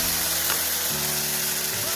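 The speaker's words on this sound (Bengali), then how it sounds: "দেখো আমার এখানে টমেটো, পেঁয়াজ কলি এবং পেঁয়াজটা খুব ভালো করে ভাজা হয়ে গেছে।" Onion, spring onion and tomato fry in a pan, a close, steady sizzle over a low, constant hum that shifts pitch slightly partway through.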